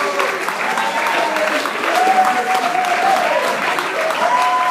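Sustained applause from a sizable audience, steady and loud throughout, with a few cheers or voices mixed in.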